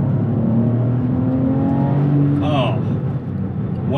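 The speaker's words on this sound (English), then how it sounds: "Now if I just do a rev match down into second," Porsche 911 996 with a 3.4 engine blipping its revs on a rev-matched downshift into second, a rising and falling flat-six howl heard from the cabin, with a brief exclaiming voice near the end.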